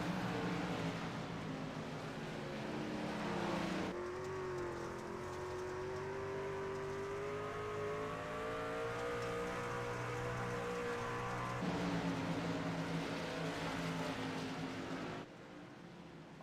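Dirt race trucks in a Truck Series event roar around the dirt track, a steady wall of engine drone with pitch rising and falling as the field passes, continuous and fairly loud with no talk.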